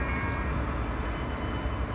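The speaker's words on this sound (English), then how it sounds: "We finally managed to get this train passing by." A Caltrain commuter train, about eleven cars long, rumbles past close by in Redwood City, a loud continuous roar of wheels on rails with heavy low-end rumble.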